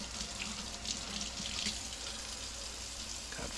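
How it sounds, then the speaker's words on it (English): Kitchen faucet running steadily, a smooth, continuous rushing hiss of water at moderate distance, quiet and unbroken with no voices. "No screaming from the faucet yet."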